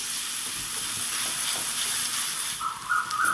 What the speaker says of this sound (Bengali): পেঁয়াজটাকে দিয়ে নেড়ে চেড়ে একটু ভেজে নেব